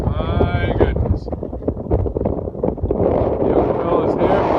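Strong gusting wind on the peak of Mount Lafayette buffets the microphone in loud, rumbling roars, with brief snatches of a voice under the noise.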